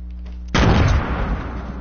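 One loud, close grenade blast in the video game Fortnite bursts out after a quiet moment, its boom decaying into a rumbling tail.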